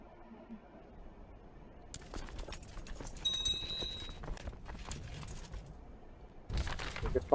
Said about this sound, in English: So, come on, get these horses moving.